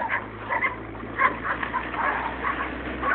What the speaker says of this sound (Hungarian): Kutyák.